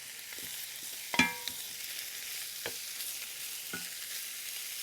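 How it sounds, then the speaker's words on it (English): Beef pieces and bones hit a hot pan and start browning, a soft steady sizzle carrying a brief louder clatter as the meat goes in, then a few faint knocks. "We're going to put this in and brown it off. Okay, in goes the beef."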